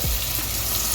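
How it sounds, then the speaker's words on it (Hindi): A little water is poured into a frying garlic, ginger and chopped tomato masala, a loud, close rush of hissing and bubbling that fills the whole brief moment. "इसमें 1 मीडियम टमाटर चॉप किया हुआ वो शामिल करें और साथ ही इसमें थोड़ा सा पानी डाल दें"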